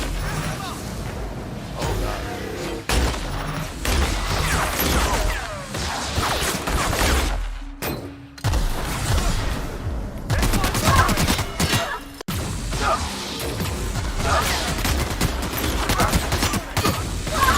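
Rapid gunfire from a favourite skinned gun in The Outer Worlds, loud and continuous bursts across most of the stretch with brief pauses, mixed with game effects and a voice talking over it.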